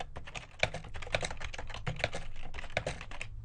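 Keys clatter steadily on a computer keyboard as code is entered, a close, busy stream of quick clicks with sharper accented strokes and no voices.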